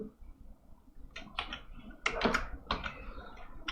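Keyboard keys pressed in a vim editor session for a Ctrl+Y shortcut, a few sharp close clicks in short clusters over a low background hum, no voice.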